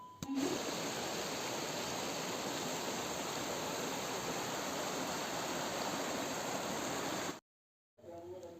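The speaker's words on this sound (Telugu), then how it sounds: "వెళ్ళే దారిలో ఒక చిన్న జలపాతం." Steady rushing water from a small waterfall at Talakona near Tirupati, loud and continuous, cutting off abruptly near the end before a brief quieter moment.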